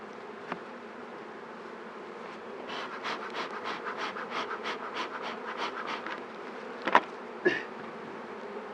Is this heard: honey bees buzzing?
yes